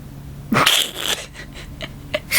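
A single loud, close sneeze bursts out sharply, followed by a few softer breathy sounds and sniffles, with no talking.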